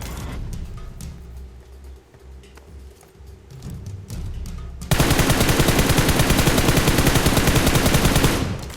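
Gunfire in PUBG Mobile: scattered shots and quieter game sounds at first, then a sudden loud, sustained burst of rapid automatic fire for the last few seconds, with no talking.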